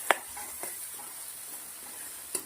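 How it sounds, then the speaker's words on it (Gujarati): Spice masala of Kashmiri chilli powder and coriander-cumin roasting in a pan: a soft, faint sizzle with a few light stirring clicks, close by and without speech. "મસાલાને સરસ શેકી લેવાનું છે."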